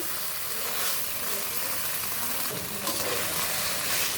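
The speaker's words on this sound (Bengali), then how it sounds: "বন্ধুরা দেখো কষানো হচ্ছে আলুটা" Potatoes with plenty of ginger and garlic sautéing in a pan, a loud, continuous hissing sizzle close by with a brief surge of stirring midway.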